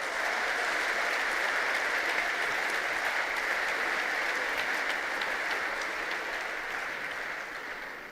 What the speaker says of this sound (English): A big applause to all our leaders who are gathering here today.